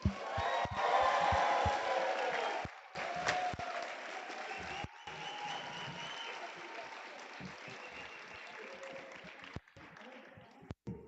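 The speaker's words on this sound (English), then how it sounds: "please join me in a warm welcome and round of applause" Applause from a crowd fills the room at an 8th grade promotion ceremony, steady and moderately loud, with a few brief breaks and knocks near the end.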